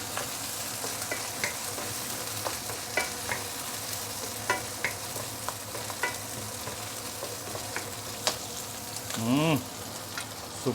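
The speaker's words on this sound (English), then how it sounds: "we can put in the stems of the veggie" Garlic and vegetable stems stir-frying in a hot pan, a continuous close sizzle broken by repeated scrapes and taps of a utensil, with one brief squeak near the end and no talking.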